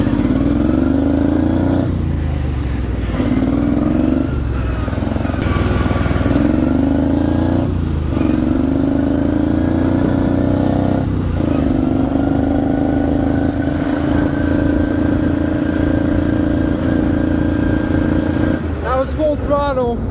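A lawn mower engine runs at full throttle while it still backfires, a steady, loud, droning roar with a few irregular dips and pops throughout. Talk can be heard over it.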